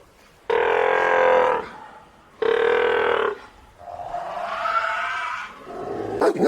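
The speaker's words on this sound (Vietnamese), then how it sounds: "Seal." Seal calls: two loud, harsh barking roars lasting about a second each, followed by a lower, wavering moan and a short rough burst at the end, close and alone.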